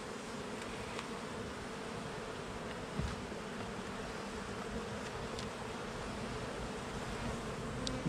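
Honeybees buzz in a steady, dense drone around an open hive during a late-October inspection, the hum loud and continuous with a few individual bees passing close by.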